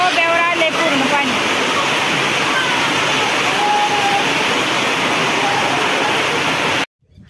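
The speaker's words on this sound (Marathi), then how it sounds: "लय मोठा पाऊस आहे. पत्र्यामुळे आवाज येते का नाही काय माहित. पत्रा लय वाजतोय." Heavy monsoon rain drumming on a tin sheet roof, a dense, loud, continuous roar lasting about seven seconds before cutting off abruptly, with a voice heard over it.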